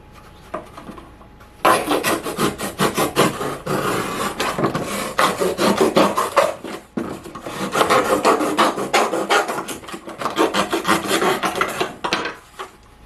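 Scissors or a blade cutting through a cardboard milk carton to make seedling pots, a close, loud rasping and crunching that runs in steady bursts with brief pauses.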